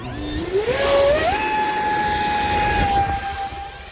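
An RC A-4 Skyhawk model jet on its maiden flight after a hand launch, its turbine or ducted-fan whine rising steeply in pitch, then holding a loud, steady high tone.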